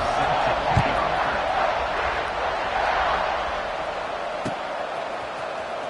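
Football stadium crowd at a Penn State vs Ohio State game during a fourth-quarter kickoff, a broad sustained roar of many voices filling the background, fairly loud and even, with a couple of sharp thumps standing out.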